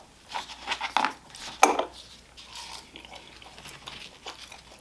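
Crunchy double-fried fries, blanched and then fried again, are bitten and chewed up close, giving a few sharp crisp cracks followed by softer, wetter mastication.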